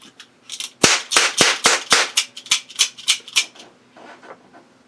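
Video game M16 rifle fire: a rapid series of sharp gunshots, about a dozen loud cracks in an uneven burst, then a few fainter shots trailing off.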